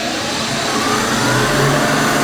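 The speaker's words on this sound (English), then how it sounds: "Lathe back on." A lathe turning a simple pen spins with a steady, continuous motor whir and hum that swells slightly midway, loud and close, with no talking.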